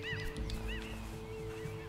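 Cartoonish birds honk a few times in the video game Unravel, short rising-falling calls over a steady game music and ambient bed, moderately loud.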